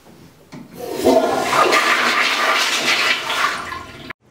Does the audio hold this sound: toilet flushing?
yes